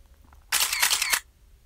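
A phone camera fires a single burst of shutter clicks for a reunion selfie, a short bright rattle lasting well under a second between quiet moments.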